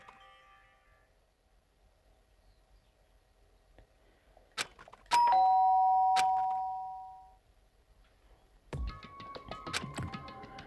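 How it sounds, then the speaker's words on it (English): A doorbell chimes in the video game Danganronpa: Trigger Happy Havoc, a single clear sustained ding ringing out over near silence after a few soft thuds, followed by busier game sound effects. "did I hear the doorbell?"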